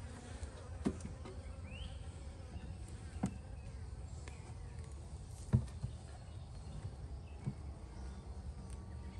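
Honeybees buzz steadily around a newly installed beehive, a soft continuous insect hum with individual bees droning past nearby, plus a few faint clicks and knocks.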